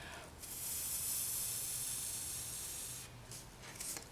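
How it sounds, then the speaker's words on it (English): A steady hiss of spray from an aerosol can onto polymer clay, held for about two and a half seconds, then a few shorter bursts, fairly quiet with no talking. "now I'm going to spray it again from a long way away"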